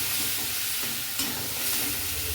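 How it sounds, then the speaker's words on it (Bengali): Spice paste frying with a splash of hot water for a chicken curry, a loud, dense sizzle that hisses steadily throughout, with a brief scrape as it is stirred, close up and with no talking. "এবার এর মধ্যে একটু গরম জল দিচ্ছি দিয়ে মশলাটাকে এবার ভালো করে কষে নেব"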